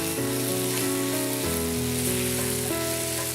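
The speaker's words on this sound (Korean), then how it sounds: "매운 거 좋아하니까 우리는 여기다가 고춧가루 한 숟갈 더 넣어서 볶아요" Chicken feet stir-fry in a pan with extra chili powder, giving a steady sizzle under background music with no pauses.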